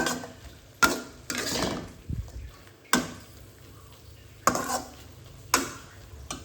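Mie goreng noodles with mushrooms stirred in a pan, sharp scraping clanks of a utensil against metal recurring every second or so, close and fairly quiet between strokes.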